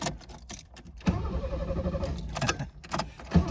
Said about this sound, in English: Doesn't like starting warm, this car.